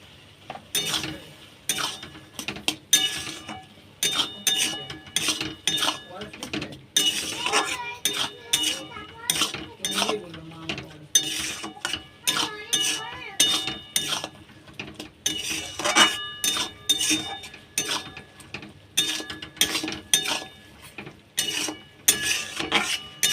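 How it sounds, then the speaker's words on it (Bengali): A spatula stirs and scrapes chatpati in a pan, giving repeated clinks and metallic scrapes in an uneven rhythm, with a soft sizzle beneath and a voice talking over it. "খুন্তিয়ে করে এইভাবে নেড়ে নেড়ে জলটা অনেকটা শুকনো করে নেব"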